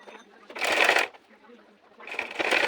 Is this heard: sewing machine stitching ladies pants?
yes